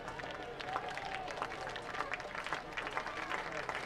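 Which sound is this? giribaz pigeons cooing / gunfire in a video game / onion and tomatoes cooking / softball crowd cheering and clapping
softball crowd cheering and clapping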